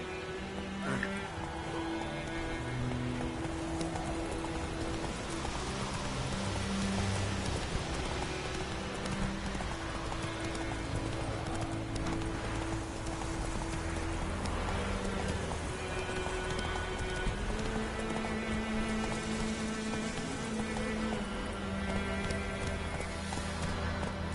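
Roach, a horse in The Witcher 3, gallops through rain: a steady, fast clip-clop of hooves runs under constant rainfall and sustained tonal game sounds, dense and continuous for the whole stretch.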